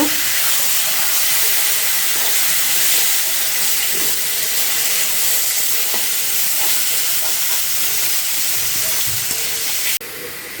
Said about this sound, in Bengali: এখন আমি ভালো করে এটাকে ভাজা ভাজা করব